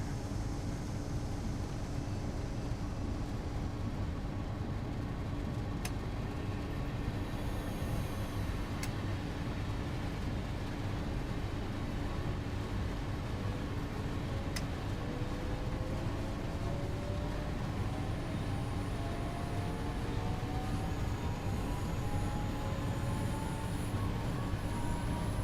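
A freight train in the Train Sim World 3 simulator rumbles past steadily for the full stretch, a dense low roar of wagons on rails with faint squealing tones gliding upward, occasional sharp clicks, and no speech.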